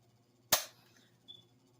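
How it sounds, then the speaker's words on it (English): A Benelli Supernova pump shotgun's trigger pulled, a single sharp metallic snap close by that decays quickly, followed by a faint small click; otherwise quiet. "We can then pull the trigger"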